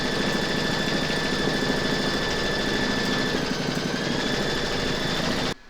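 An embroidery machine quilts a Valentine coaster, a steady, dense mechanical whir with a fast rapid-fire stitching pulse and faint high whine, running continuously up close before stopping abruptly at the end.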